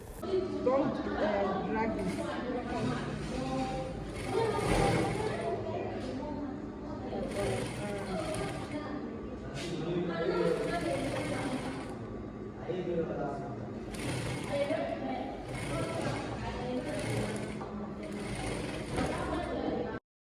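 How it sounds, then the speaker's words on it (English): A busy sewing class fills the room with overlapping student chatter and laughter alongside the mechanical whir and rattle of sewing machines, a continuous loud din throughout. "Let me just show you guys the noise they are making here."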